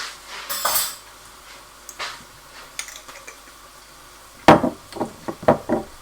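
A utensil scrapes and clinks against a pan while pork stir fry is mixed, with sparse metallic taps at first and then a burst of close, clattering knocks.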